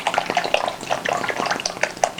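Half a liter of paraffin oil poured from one container into another, a steady trickling liquid pour with small splashy glugs, close and moderately loud throughout.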